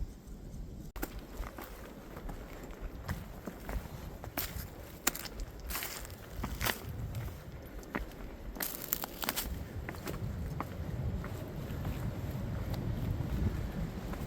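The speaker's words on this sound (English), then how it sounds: "It is very windy today." Gusty wind buffets the microphone on an uphill stretch of the Appalachian Trail in Maryland, a steady low rumble with footsteps crunching along and sharp gust bursts throughout.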